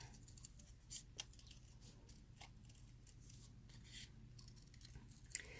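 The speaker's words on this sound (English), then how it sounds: "So I'm now going to cut out my little gorilla." Scissors doing fussy cutting around a small paper gorilla for a papercraft box, with faint, sparse snips and crisp paper sounds at close range in a quiet room.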